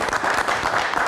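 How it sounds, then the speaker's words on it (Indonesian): A live studio audience claps for a stand-up comedian turned musician on a talk show, a dense, loud burst of applause with no talk. "Kita berikan tepuk tangan sekali lagi untuk Cing Abdel"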